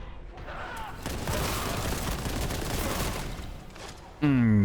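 Plasma gun fire in Warhammer 40K: Boltgun, a dense sustained burst of loud, crackling blasts that runs for several seconds and ends in a brief tonal whine, with no voices over it.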